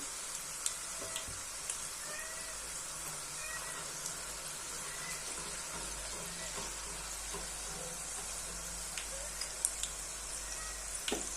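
Khari shankarpali dough pieces fry in oil over medium heat, giving a steady faint sizzle with occasional soft crackles and light stirring clinks throughout.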